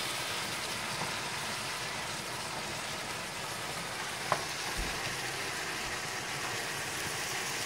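Grandma's spicy chop suey stir-fries in a pan with a quiet, steady sizzle and faint scraping, broken by a single small clink partway through.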